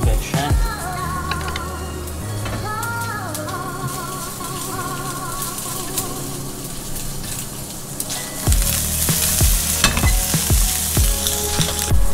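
Fish roe sizzles steadily in a hot pan while frying for a gratinated mullet with capers dish, a continuous close crackle with a few clattering knocks and a brighter, louder burst of sizzling near the end.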